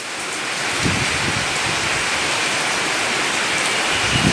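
Rain falls steadily in a calm spell between gusts of wind, a loud, dense, unbroken patter that holds the same level throughout, with no voices.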